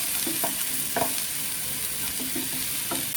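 Chicken keema with gram flour sautéing in a pan, a constant bright sizzle and frying hiss with a few soft scrapes and knocks of a spoon stirring, close and steady.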